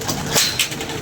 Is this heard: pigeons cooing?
yes